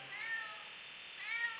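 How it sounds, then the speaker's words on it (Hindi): A cat meowing during an early-morning outdoor yoga session, two drawn-out faint meows heard from a distance. "अगर आप सुबह आते ना, ये आवाज आती ना बिल्ली की"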